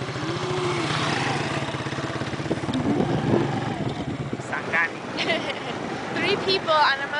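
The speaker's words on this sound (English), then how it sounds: "3 people on a motorcycle without a helmet." Motorbike taxi carrying three riders through a neighborhood in Tanzania, its engine buzzing steadily close by while people talk over it and other traffic passes.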